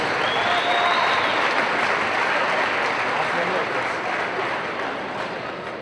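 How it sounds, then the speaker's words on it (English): A crowd applauds a graduating senior at a women's college basketball game, Indiana Wesleyan at Taylor. The clapping is sustained, dense and roomy, and it tapers slightly toward the end. "Ladies and gentlemen, a big round of applause for Shelby Robbins."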